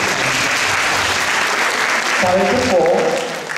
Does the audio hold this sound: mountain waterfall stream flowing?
no